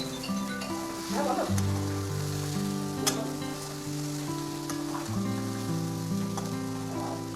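Potatoes, peas, turmeric and tomato fry in a pan for an aloo matar curry, giving a steady close sizzle with occasional stirring scrapes over background music.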